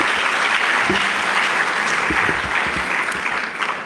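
A conference hall audience in Botswana keeps clapping for a minister, a dense, even round of applause with a few low thumps beneath it, easing slightly toward the end.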